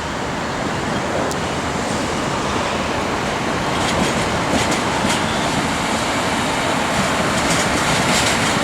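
An electric train rumbles past on the Adelaide rail lines near North Terrace, a loud, continuous roar of wheels and motors close by, with faint clicking on the tracks and city traffic noise underneath.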